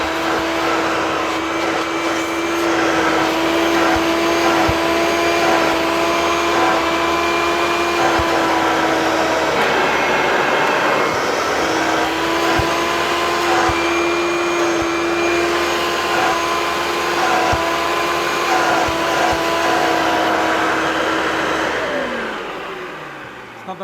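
Refurbished Hoover Turbopower Freedom U2262 vacuum cleaner running with its tools attached, a loud steady motor whine and airflow rush with a strong constant hum, with slight pitch shifts and a few knocks before it winds down at the end.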